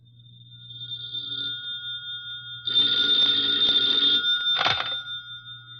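A telephone rings in a phone booth as a radio drama sound effect, steady repeated bell tones at moderate loudness with a louder burst near the end, heard alone without talk.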